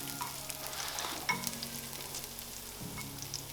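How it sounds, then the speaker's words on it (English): Food fries in a pan, giving off a soft, steady crackle and sizzle with occasional clinks of a utensil stirring, quiet and close with no voices. "It's sizzling."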